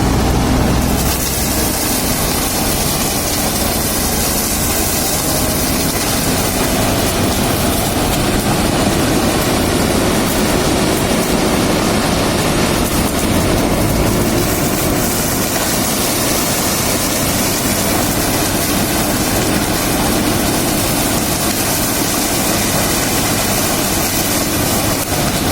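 Sugarcane harvester machine and a fully hydraulic tractor running in an Indian cane field, a loud, continuous, close engine roar and hydraulic drone with no letup and no voices.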